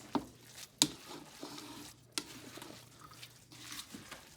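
Walleye cake mixture of rice, cheese, oil and eggs being mixed in a bowl, with soft wet stirring and a few sharp clicks of utensil against the bowl, close and fairly quiet with no talk.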